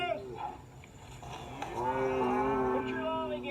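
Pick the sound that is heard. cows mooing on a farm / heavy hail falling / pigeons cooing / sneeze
cows mooing on a farm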